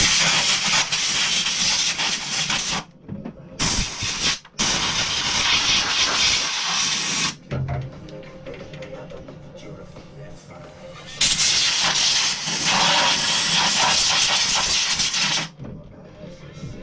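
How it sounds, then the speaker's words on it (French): Blasts of an air blow gun clear dust out of a DeWalt DW708 miter saw, several loud hissing bursts separated by short pauses, close and harsh, with no talk over them. "Ouais, on va déjà mettre un coup de soufflette. Parce que c'est super dégueu. Voilà les petits coups de soufflette."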